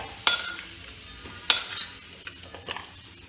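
Fried potatoes are lifted out of hot frying oil with a utensil, giving sharp metallic clinks and scrapes against the pan over a light sizzle, close up with no talk.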